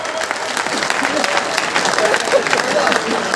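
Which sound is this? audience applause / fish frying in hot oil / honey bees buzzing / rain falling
audience applause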